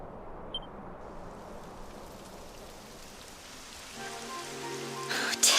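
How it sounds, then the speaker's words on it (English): Rain patters softly and steadily in Dragon Quest XI, a faint, even hiss of falling drops that swells a little toward the end as other game sounds come in. "Typical. It would have to go and start raining, wouldn't it?"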